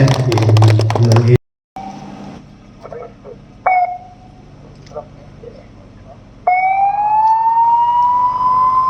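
An ambulance siren starts in brief wailing bursts, then rises into a sustained, loud, high tone. Heavy earlier noise cuts out abruptly before the quieter siren section begins.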